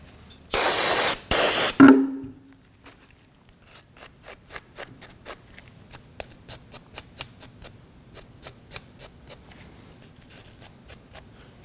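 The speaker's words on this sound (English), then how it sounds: "I'll use some brake parts cleaner and a brush to clean up the ends here." Brake parts cleaner sprays from an aerosol can onto brake caliper parts from a 2003-2006 Subaru Baja in two loud hissing bursts, followed by a steady series of short scrubbing strokes from a brush.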